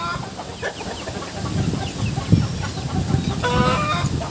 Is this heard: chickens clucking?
yes